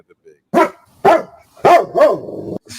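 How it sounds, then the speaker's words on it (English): A dog barks four times in short, loud bursts close by, the last bark drawn out into a brief whine, with quiet gaps between. "What happened to the dog? Just started barking out of nowhere."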